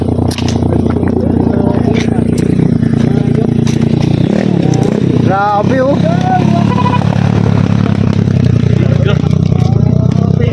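A motorcycle engine drones loudly and steadily nearby, with some rattling clatter and a voice briefly exclaiming over it.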